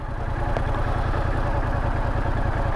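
A Yamaha MT-07 motorcycle engine runs at a steady, throbbing low idle with a light rise in throttle, close and continuous throughout with no talking.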